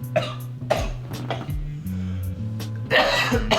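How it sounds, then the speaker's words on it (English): A string of harsh coughs and throat-clearing bursts, close and loud, repeating irregularly in a short fit. "You guys are witnessing the first keynote cough attack."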